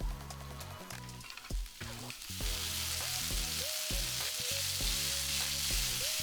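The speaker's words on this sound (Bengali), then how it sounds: "এবার কড়াতে আরও দু চামচ তেল দিয়ে কুচনো পেঁয়াজ এবং ক্যাপসিকামগুলো দিয়ে দেব" Chopped onions and capsicum frying in oil in a wok, a steady hiss of sizzling rising after a couple of seconds, close and constant, with some tonal music in the background.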